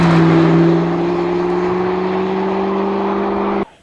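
A Ferrari engine holds a loud, steady drone with a strong, even tone that cuts off abruptly just before the end, with no voices.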